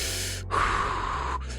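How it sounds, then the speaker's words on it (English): A character in The Hundred Line: Last Defense Academy takes a sharp, loud gasping breath, a single strained inhale between quieter breaths over a low background hum. "why are you breathing so hard?"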